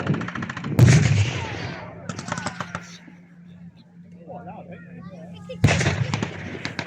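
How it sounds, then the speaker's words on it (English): An MG-42 machine gun firing rapid bursts at a WWII reenactment show, sharp loud ripping volleys separated by a quieter stretch with a commentator talking over the field. "engaging the foot infantry to the left with machine gun fire"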